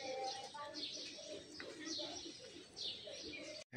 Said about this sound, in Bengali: সকালবেলা কিন্তু এই পাখির ডাকটা